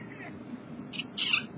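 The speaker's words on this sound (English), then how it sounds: "I think my cat wants to come up and visit." A pet cat gives short meows indoors, two quick high calls near the end over faint background noise, with no talking.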